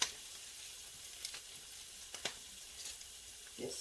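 Beans sauteing in a pan with onion powder and garlic powder, a faint steady frying hiss with a few light scrapes and taps of a utensil.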